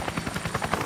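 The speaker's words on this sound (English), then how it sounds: "It's a chopper right there." Helicopter rotor in the video game Resident Evil Revelations, a steady rapid thudding chop with a broad engine whine, close and fairly loud throughout.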